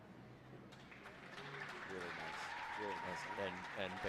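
Crowd applause at a hunter jumper grand prix, a soft wash of clapping that swells slightly, heard behind someone talking continuously over it.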